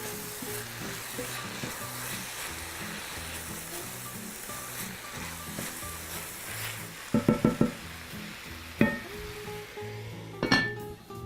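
Onions sizzle and fry steadily in a pan, a continuous soft crackle, with a few clinks of a utensil against the pan near the end.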